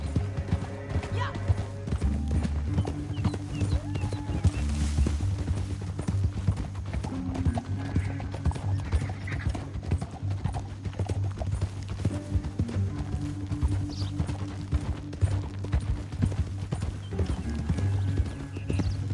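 Horses gallop with steady clip-clop hoofbeats and occasional whinnies in Red Dead Redemption 2 near a canyon, under a constant music and ambience bed.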